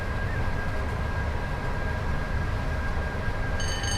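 A BR Class 86/4 electric locomotive in a train simulator game runs with a steady rolling rumble and a thin whine, joined briefly near the end by a faint high tonal chime.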